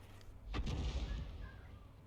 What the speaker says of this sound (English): Dave333 is just laying down harassing fire into that area of the map